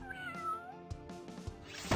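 Cat enemies in the video game EBF4 meowing, a clear drawn-out meow with a bending pitch followed by short thumps and a louder cat cry at the end, faint overall.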